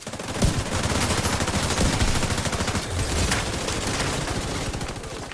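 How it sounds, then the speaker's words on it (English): Rapid gunfire in The Division 2, a dense continuous burst of automatic shots with sharp cracks punctuating it, loud and close throughout. "That snipe was a close-range headshot."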